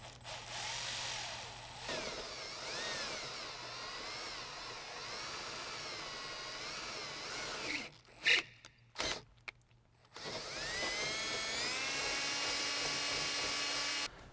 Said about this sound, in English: Doesn't matter where along you drill the hole, but it needs to be on this seam right here.